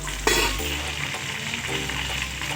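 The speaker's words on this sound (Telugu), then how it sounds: "మిరపకాయలు వేసినాక ఉల్లిగడ్డలు వేస్తున్నారు బాగానే" Chillies and onions fry in a pan of hot oil as the onions are added and stirred, giving a close, continuous sizzle with a sharp burst at the start.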